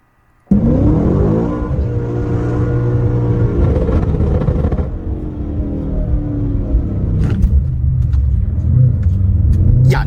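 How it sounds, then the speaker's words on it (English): A car starts abruptly and roars hard down a drag strip held in first gear, a loud sustained rumbling engine tone that strains on, with a few clicks and knocks near the end. "First gear all the way down the drag strip."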